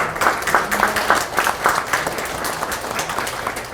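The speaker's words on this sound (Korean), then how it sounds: "여러분 큰 박수 부탁드리겠습니다" Loud, close applause from an audience at a party members' meeting in a hall in Pohang, as local councillors are introduced: a dense, brisk clatter of many hands that swells and eases in waves, with no talk over it.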